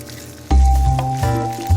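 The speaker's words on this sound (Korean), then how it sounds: "이렇게 페이스트를 한번 볶아서 준비를 할 겁니다" Tomato paste dropped into a hot pan and stir-fried, making a loud close squishing sizzle with a few wet thuds as it is moved around.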